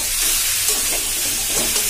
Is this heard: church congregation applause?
no